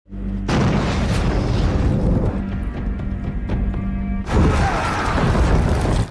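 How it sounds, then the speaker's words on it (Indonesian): A loud, sustained bomb blast roars with deep rumble and crackling debris, then a second burst surges in near the end, no voices. "Si pembeli yang akan membawa pergi alat itu pun dikejutkan dengan ledakan bom."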